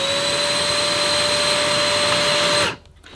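A Numatic Hetty Quick cordless vacuum cleaner runs on its normal setting with a loud, steady whine and a constant pitched tone close by, then shuts off abruptly near the end.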